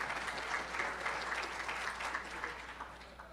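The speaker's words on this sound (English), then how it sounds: "Can we get a round of applause," Conference audience applauding steadily at a Perl programming conference, a dense, even wash of clapping heard from within the hall with no one speaking over it.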